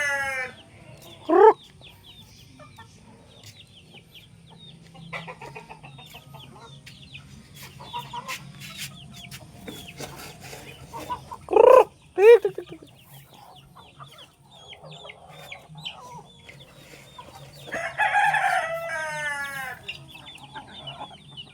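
Chickens cluck intermittently around a farmyard with ducks, with a few loud squawking bursts and a rooster crowing near the end, all fairly close.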